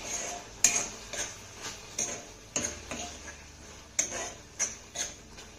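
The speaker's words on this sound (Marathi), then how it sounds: "एकदा ही भाजी ना तळापासून आपल्याला चांगली हलवून घ्यायची आहे" Spoon stirring and scraping a guava vegetable curry in a metal pan, a series of sharp clinks and knocks at a steady, unhurried rhythm, close up, with no voices.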